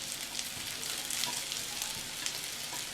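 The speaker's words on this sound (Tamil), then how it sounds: "நல்லா இந்த தக்காளியெல்லாம் மசிஞ்சு வர வரைக்கும் வதக்கிக்கலாம்" Tomatoes and masala sautéing in a hot pan, a steady close sizzle and crackle with faint stirring scrapes, continuous and alone.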